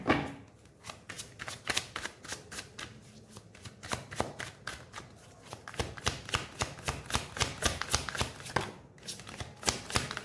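Tarot cards being shuffled by hand, a rapid run of crisp riffling slaps and flutters in a quiet room, close and continuous, with no talking.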